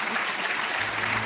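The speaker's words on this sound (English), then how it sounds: "Please give them a very warm round of applause." An audience at a forum event gives a warm burst of applause, even and continuous across the short moment with no talk over it.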